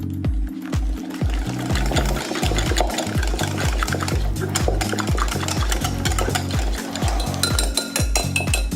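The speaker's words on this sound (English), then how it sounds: "Give it a quick whisk." A whisk beats honey into a mixture in a bowl for air-fried chicken wings, a fast rhythmic clinking and scraping of metal against the bowl, loud and close, going steadily throughout with no speech.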